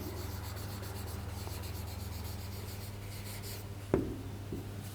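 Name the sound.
writing a math statement by hand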